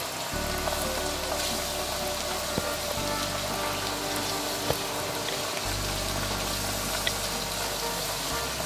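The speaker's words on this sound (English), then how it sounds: "then we clean it again under the water" Tap water runs steadily while fish is rinsed in a kitchen sink, a constant spattering hiss with small clicks and knocks from handling and no talking.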